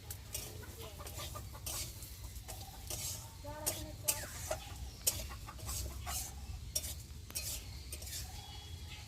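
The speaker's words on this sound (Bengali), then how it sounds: "ভালো করে একটু ভেজে নেব লাল লাল করে।" Moong dal being dry-roasted and stirred in a hot wok, about 350 to 400 grams, giving a faint steady sizzle with scraping and clinking of a spatula against the pan throughout.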